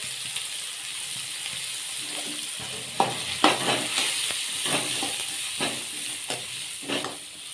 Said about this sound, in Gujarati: જો સરસ મજાનું હલાવી નાખ્યું છે